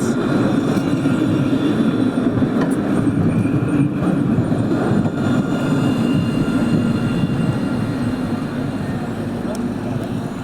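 A Montpellier line 3 tram arrives at the Mosson terminus, heard as a steady, loud low rumble and rolling hum with faint squeals, while someone talks throughout.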